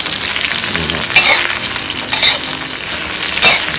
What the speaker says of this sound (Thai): ผมใส่ลงไปนะฮะ แล้วก็คั่วคั่วเลยนะครับผม